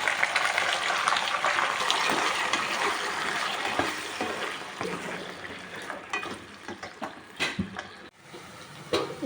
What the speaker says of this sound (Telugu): అరటికాయ ముక్కల్ని వేసుకున్నాం.